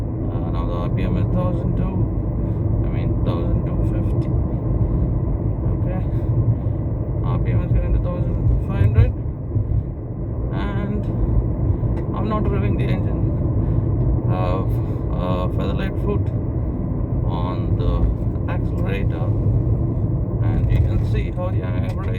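A car engine holds steady at a low, constant RPM in fifth gear, giving a loud continuous rumble with road and cabin noise throughout, while a person talks over it.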